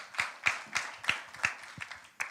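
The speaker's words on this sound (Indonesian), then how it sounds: "Tepuk tangan yang panjang buat Tuhan." A church congregation clapping during a sermon: a scattered run of about eight distinct hand claps at an uneven rhythm, fairly close and clear, with no voices over them.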